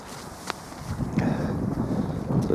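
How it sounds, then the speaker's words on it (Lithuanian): Strong wind buffets a tent-umbrella outdoors, a steady close roar of gusts and flapping with a few sharper rustles and knocks over the short stretch. "bet yra nemažas vėjas."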